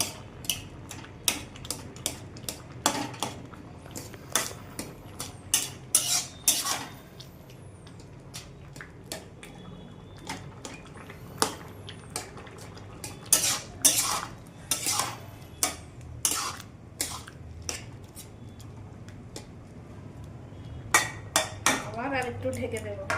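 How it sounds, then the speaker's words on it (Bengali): Vegetables and garlic are stirred and mashed in a cooking pot. The utensil scrapes and knocks against the pot in a steady run of sharp clinks and taps, mostly close and fairly loud, with a low background hum underneath. "রসুনটা নাড়ার সময় সবজিগুলিকে এভাবে ছেনে দিয়ে"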